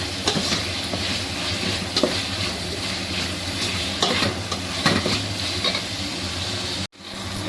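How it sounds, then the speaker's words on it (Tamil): Tomatoes sizzle steadily in a hot pan while a spoon scrapes and stirs them in repeated strokes, close and fairly loud with no talking, ending in a brief pause. "தக்காளி நல்லா வதங்கிருச்சு."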